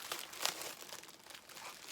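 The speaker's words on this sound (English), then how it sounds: "Excuse the rustling." Packaging crinkles and tears as a fabric-of-the-month parcel from Crafty Kate is broken open: a few sharp crackling bursts, one louder snap near the middle, then softer scattered rustles, fairly close and with no voices.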